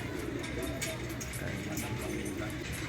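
Pigeons coo softly and continuously in a pigeon loft housing young racing birds, a steady low murmur of calls with light rustling and faint background voices.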